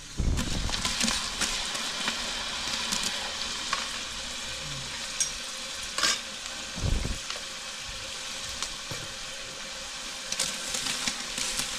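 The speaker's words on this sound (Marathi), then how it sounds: "मटण फ्राय करून घेत आहेत." Mutton fries in oil in a large village-style batch, a continuous close sizzle broken by scraping and stirring clatters, with no talking.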